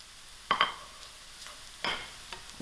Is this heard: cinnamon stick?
yes